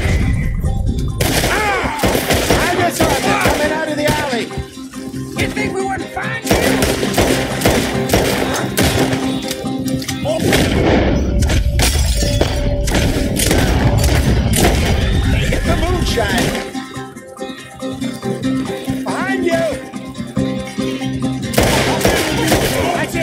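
Heavy gunfire in a Wild West video game shootout, with sustained loud bursts and booming shots, crashes and thuds over roughly twenty seconds, with a short lull partway, while characters' voices cut in among the shooting.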